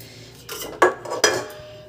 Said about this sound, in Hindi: एक बड़े बर्तन में सारी सब्जियां पलट लेंगे।